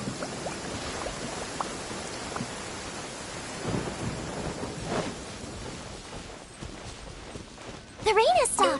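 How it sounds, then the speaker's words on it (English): Rain and thunder in the video game Genshin Impact, steady rainfall with low rumbling swells, followed at the end by a bright chiming game effect. "Oh, I don't like the rain."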